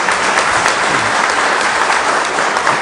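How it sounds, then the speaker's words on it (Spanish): A room full of conference attendees claps for a speaker, the applause dense and even, loud and continuous from start to finish with no voices rising above it. "un fuerte aplauso para motivarlo"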